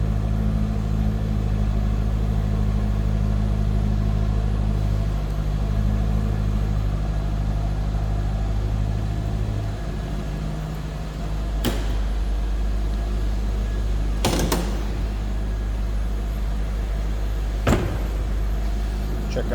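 A 2000 Chevrolet Corvette C5 convertible V8 idles steadily from behind the car, a low constant rumble with a few brief clicks or knocks over it.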